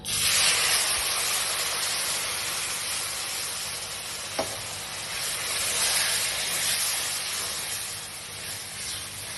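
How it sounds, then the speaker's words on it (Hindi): Cold creamy milk and sugar go into a hot pot of halwa, raising a loud, steady sizzling hiss that runs throughout, with one brief clink near the middle. "अब इसमें इस मौके के ऊपर चीनी ऐड कर देते हैं और इसमें 1 गिलास दूध का डाल देते हैं, मलाई वाला दूध, ठंडा दूध।"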